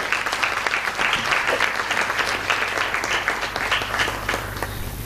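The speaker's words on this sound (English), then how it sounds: "I want you to give yourselves applause." Young women at a global forum applaud themselves, a dense, continuous wash of many hands clapping at fairly loud, even volume for the whole stretch, with cheering voices mixed in.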